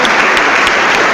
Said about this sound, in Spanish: Aplauso fuerte, fuerte, que se oiga, aplauso, hermano.